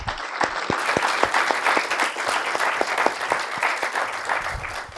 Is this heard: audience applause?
yes